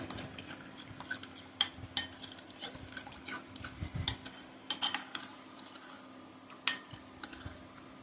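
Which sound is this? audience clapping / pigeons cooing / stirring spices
stirring spices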